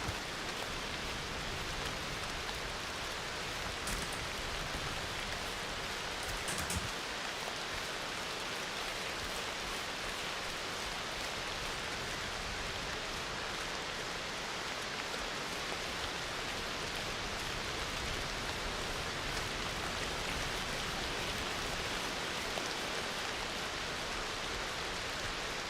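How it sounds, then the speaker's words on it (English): Heavy rain pours steadily as a dense, even hiss of drops on surfaces, constant and unbroken, with no voices. "Rain has gotten more severe, I'll tell you that."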